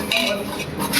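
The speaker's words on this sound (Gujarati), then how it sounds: "ચમચી ચમચી બધા લેતા જાઓ હાલો" Metal spoons clink and rattle together as they are handed out to a group, in a brief, close burst of light jangling.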